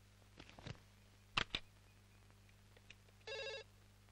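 A landline telephone rings once in a short, bright burst near the end, after a few scattered clicks and thumps over a low, steady hum in an indoor film scene.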